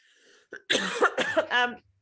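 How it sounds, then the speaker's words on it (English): A person coughs in a quick, harsh burst close to the mic, ending in a raspy voiced hack. "I'm going to get coughing while I'm talking."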